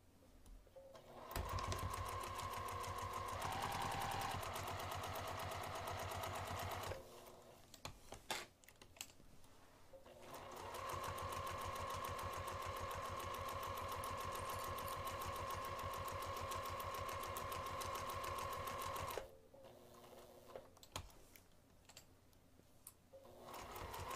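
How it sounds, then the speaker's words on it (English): A sewing machine stitches the side and bottom seams of a small sewing project at an eighth-inch seam allowance, running in two long, steady close-up bursts separated by a short pause. "Okay, so I'm going to sew the sides and the bottom using 1/8 of an inch seam allowance."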